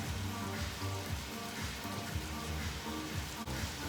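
Ground beef and red onion sizzle steadily in a pan, a continuous close crackling hiss with a faint stir-like rustle partway through and no talking.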